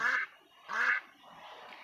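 Two loud, nasal duck quacks sound close by with a short gap between them, then a fainter call trails off.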